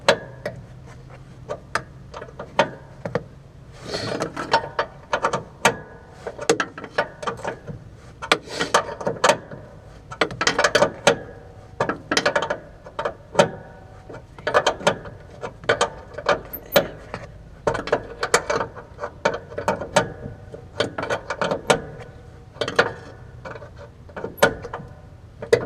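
A hand ratchet works bolts loose on a 1970 Chevy Nova during teardown, sounding as quick bursts of clicking strokes in an irregular rhythm, close and fairly crisp, with short pauses between sets.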